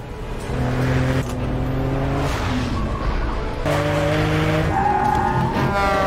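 Skidding tyres and revving engines in a car chase, as police pursue a murder suspect through an area of heavy machinery; a loud, continuous engine drone with squealing tones lasts the whole stretch, with no talk.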